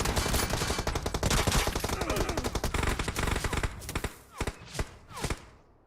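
Rapid automatic gunfire from a video game rattles loud and close in dense bursts, then thins into a few spaced single shots toward the end.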